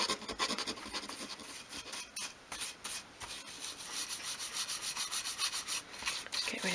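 Close, quiet rhythmic sanding of a small wooden 1/12 scale dolls house chimney breast surround, steady back-and-forth rasping strokes with brief pauses, no talking.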